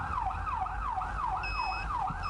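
Emergency vehicle siren wailing in a steady rising-and-falling sweep, loud and close over a low traffic rumble, with a brief higher tone joining partway through.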